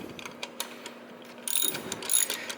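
A wrench ratchets in short clicking runs while the stock horn is unscrewed from its bracket on a Yamaha FZ-07 motorcycle, close and fairly quiet, the clicks growing busier toward the end.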